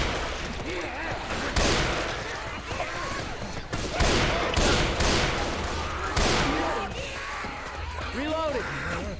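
A sniper rifle fires in the zombie shooter game Left 4 Dead 2, about five loud, sharp booming shots spaced a second or so apart over game ambience, while players talk throughout.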